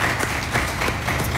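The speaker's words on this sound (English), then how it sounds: "Please clap for yourself." A studio audience at a televised discussion show claps in a brief, dense burst, many hands close and loud, filling the short moment without speech.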